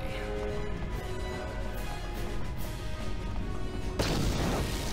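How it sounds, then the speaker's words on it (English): A heavy explosion in Star Wars: Knights of the Old Republic, a sudden loud burst about four seconds in that rises over steady low game music and ambience, then hangs as a broad roar. "Explosion."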